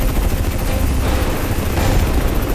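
A helicopter in the shooter Crysis 3 thunders overhead amid combat, a loud, dense, continuous rotor and engine roar mixed with gunfire bursts, with no talking.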